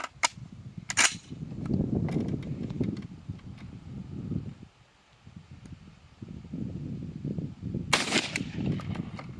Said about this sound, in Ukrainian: Давайте зробимо ще один постріл